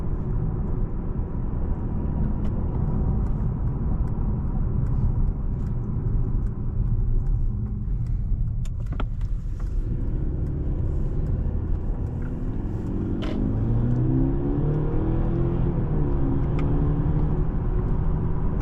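A 2025 Mercedes-Benz CLE 300 4MATIC accelerating, heard from inside the cabin as a steady, loud low engine and road rumble with a rising tone near the end.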